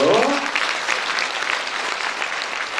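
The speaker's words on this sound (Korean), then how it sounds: "박수로 환영해 주시죠" An audience claps to welcome guests being introduced at a community town-hall event in Gyeyang, a full, steady burst of applause with a brief voice at the start that continues evenly throughout.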